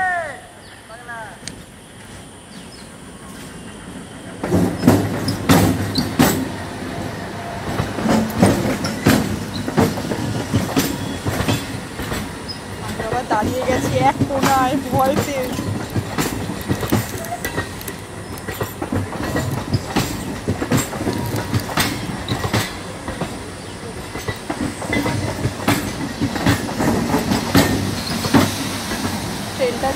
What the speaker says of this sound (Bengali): ট্রেন আসছে, আমি আবার দাঁড়িয়ে যাই।